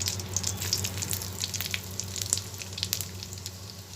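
Panch phoron spices crackle and sizzle in hot oil with a dried red chilli, a faint steady frying hiss dotted with small pops and no voices.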